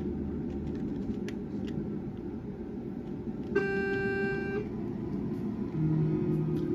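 In Euro Truck Simulator 2 a truck horn sounds once in a single loud blast of about a second over a low engine rumble, and a shorter, fainter horn answers near the end.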